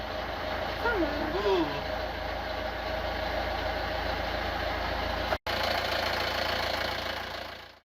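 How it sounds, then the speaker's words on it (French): A newly replaced sailboat inboard engine starts and settles into a steady, loud idle, a continuous close rumble with a brief cut near the end; a voice exclaims briefly over it. "Premier essai, est-ce que le moteur démarre?"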